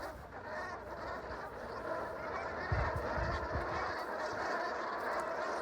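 A dense chorus of geese honking continuously, many birds calling at once from a large flock at moderate distance, with no pause in the noise.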